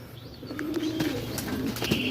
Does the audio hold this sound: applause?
no